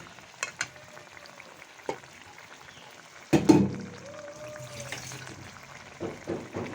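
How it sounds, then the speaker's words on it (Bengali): Bata and pabda fish cooking together in a pan with tomato gravy, with a soft steady sizzle broken by a few scraping stirs and clinks, one louder clatter midway. "একসাথে 2 মাছ ভুনা করতেছি।"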